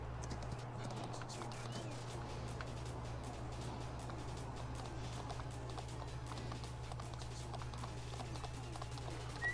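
A ridden horse in the video game Farming Simulator 19 clip-clops at a steady, brisk pace, its hoofbeats clear and regular above a continuous low hum, with no speech.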